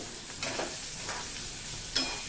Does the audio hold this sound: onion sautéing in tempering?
yes